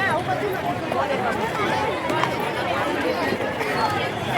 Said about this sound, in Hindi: आज के दिन भी इतनी भीड़ है, क्योंकि इसको लगे हुए 15-16 दिन हो गए और हर दिन इतनी भीड़ है।